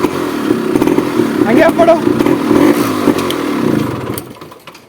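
A Yamaha RX 100/135 two-stroke motorcycle fitted with an RX Z central lock starts and runs, its engine a close, loud, rattling putter that fades out at the end, with people talking over it.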